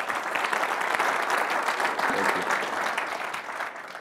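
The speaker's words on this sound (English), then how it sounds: "please give a big round of applause for Paul Maurice" Audience at a speaker series event applauding a hockey coach being introduced, a thick, continuous burst of many hands clapping at steady intensity.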